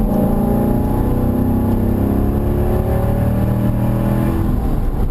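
Chevrolet C7 Corvette engine revving in neutral, a loud, close, throaty idle that climbs briefly as the throttle is feathered and then settles, steady throughout with no voices.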